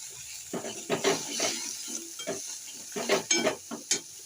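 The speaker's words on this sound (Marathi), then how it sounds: "बटाटा इथं तुपात टाकायचा आहे" Potato fries in ghee with a spoonful of salt while a spoon stirs and scrapes the pan, giving irregular close bursts of sizzling and scraping over a soft frying hiss, with no voices.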